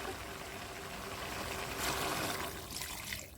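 Water pours steadily into a pan of Pallipalayam chicken, a soft continuous splashing that swells in the middle and trails off, quiet and close.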